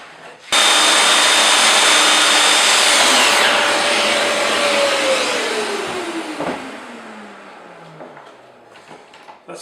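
A handheld router cuts a channel in wood for a Gothic bench with dust extraction running, giving a loud, steady broadband whine that starts abruptly, then winds down with a falling pitch as the motor spins off over several seconds.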